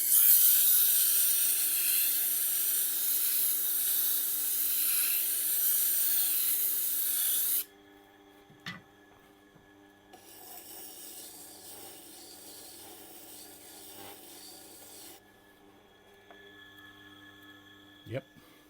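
Tormek T8 wet grinder sharpening a wood chisel: a steady broadband rasping grind for about eight seconds, then a quieter hum with brief knocks and a second softer stretch of grinding.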